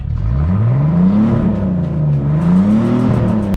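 A salvage-auction Bentley being rebuilt has its engine running and revved a couple of times, pitch swelling and falling in slow waves, loud and close with no talk.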